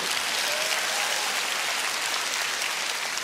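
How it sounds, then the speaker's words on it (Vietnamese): A comedy show audience breaks into dense, continuous applause that fills the room at an even, loud level throughout. "Cho một tràng pháo tay cho bà con ơi."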